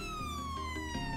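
Police car siren in a GTA V FiveM game, a steady electronic wail with a slowly falling tone, loud and continuous over a low engine rumble, with no talk.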